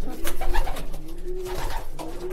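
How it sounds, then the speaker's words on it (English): Pigeons coo repeatedly inside a loft, close by, with soft throaty calls in a steady rhythm and faint background noise. "This is where the pigeons come in the loft"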